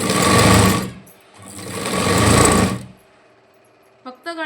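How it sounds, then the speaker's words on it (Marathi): A sewing machine stitches a princess-cut boat-neck front panel in two loud sustained runs with a short pause between them, then falls quiet before a brief voice. "आता मी तुम्हाला शिवून दाखवते"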